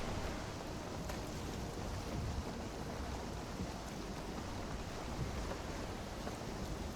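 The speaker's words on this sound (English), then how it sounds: "It's raining now." Rain and wind in the Valheim video game over a swamp form a dense, steady hiss with a low rumble, constant and unbroken throughout.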